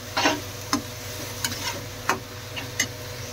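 Fried idli being stirred with gravy in a pan, with a steady low sizzle under a series of spaced spoon scrapes and taps on the pan, roughly five or six strokes, close and alone.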